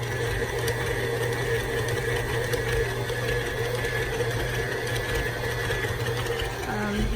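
An electric mixer whirs steadily and loudly in close range while beating cream cheese frosting, holding a constant mechanical drone with a faint rattle throughout.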